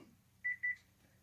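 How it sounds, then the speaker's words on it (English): A phone gives two short, identical electronic beeps in quick succession, clear but fairly quiet against a near-silent room. "Pardon me, that was my phone."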